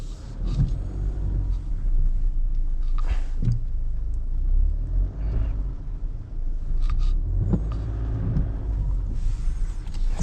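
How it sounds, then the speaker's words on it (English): SsangYong Rexton diesel SUV with 202 horsepower climbing a hill, its engine a deep steady rumble from inside the cabin with some bumps and thuds, no talking. "So we have a diesel engine in this car to help us with this"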